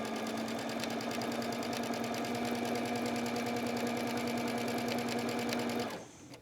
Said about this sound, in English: we're going to sew the opposite side down.